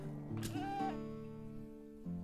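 A lamb in the medieval farming game Medieval Dynasty lets out a quavering bleat, then a brief second call, fairly quiet and alone without speech.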